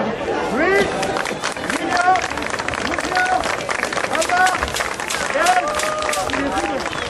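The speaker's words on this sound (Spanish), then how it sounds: "un aplauso para Luis" A festival crowd at a fifteenth-century-themed medieval exhibition in Villena breaks into applause, dense clapping and cheering mixed with chatter and a voice over the hubbub, sustained throughout.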